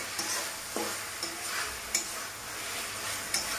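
Green tomato frying in a pan while being stirred, a low steady sizzle broken by a few sharp scrapes and clinks of a utensil against the pan, close and quiet, with no talking.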